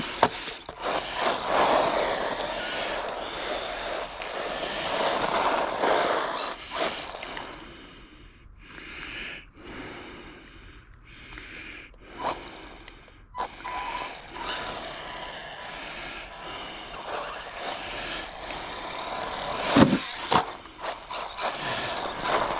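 An Arrma Granite Grom 1/18-scale RC car driving outdoors, its electric motor whining and rising and falling as it speeds about, with tyre and gravel noise and a few knocks; fairly close, no talk.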